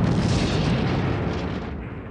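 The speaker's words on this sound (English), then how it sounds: "A swarm of riot troopers, explosions, the den liner blowing up" Loud, continuous rumbling explosions and booms from the opening battle scene of Kamen Rider Decade, where a train blows up amid riot troopers, rolling on for about two seconds with no talk.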